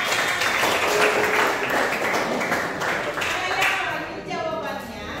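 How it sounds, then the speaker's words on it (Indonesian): A classroom of students applauding during an open lesson, a brief dense burst of clapping mixed with chatter and voices that tapers off near the end. "Oke, tepuk tangan semuanya"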